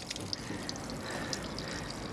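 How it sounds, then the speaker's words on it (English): Grey waste water from the shower drains out of a Chausson Flash 515 motorhome's waste outlet, a soft continuous trickle and gurgle with faint drips, quiet and close, with no talking. "pull it towards you, and that empties the waste"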